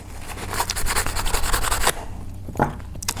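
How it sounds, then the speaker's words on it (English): Brush scrubbing parts of a Benchmade AFCK knife clean, rapid close rubbing strokes in a steady rhythm, then a pause and a couple of lighter scrapes. "So, go ahead and scrub this clean a little more."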